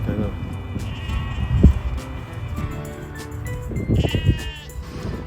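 Swaledale sheep bleat repeatedly on English hill pasture, several overlapping calls at moderate distance over a steady outdoor background rumble.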